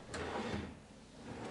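A kitchen cabinet drawer slides open or shut during assembly of a kitchen set, a brief faint rolling scrape with a soft knock, quiet and close, with no talking.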